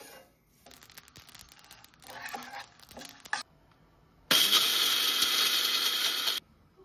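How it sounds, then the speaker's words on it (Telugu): An electric grinder pulverising dry-roasted spices into a fine powder for homemade chicken pickle: scattered rattles and clicks first, then a loud, steady high-pitched whirring burst for about two seconds that cuts off abruptly. "ఇట్లా ఫైన్ పౌడర్గా గ్రైండ్ చేసుకోవాలి."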